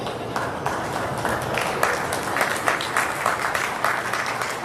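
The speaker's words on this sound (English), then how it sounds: "Let's give all of these juniors a round of applause." A crowd at a county fair dairy goat show applauds the junior showmen, producing a continuous moderate patter of many hands with a few sharper claps scattered through, and no speech.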